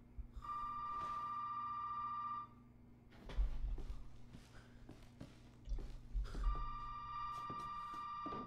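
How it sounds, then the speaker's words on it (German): An electronic telephone ring in the video game Resident Evil 7 trills twice with a pause between, over a low steady hum and a few soft thuds and footsteps. "Klingelt dieses Telefon?"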